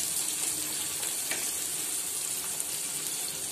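Finely chopped onion roasting over a medium flame, a steady close hiss of frying that holds evenly throughout with faint stirring scrapes and no speech.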